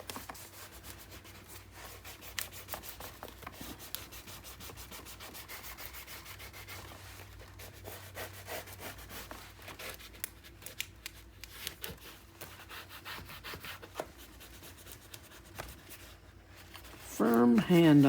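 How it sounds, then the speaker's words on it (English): Tape is burnished onto a paper mini album page with firm, steady rubbing strokes that rasp continuously for a long stretch, ending in a brief burst of louder handling noise. "Let's open this up and let's get it burnished."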